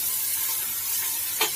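Onion, ginger and garlic paste fries in a pan with a steady, close sizzle, and a short scrape of stirring comes near the end.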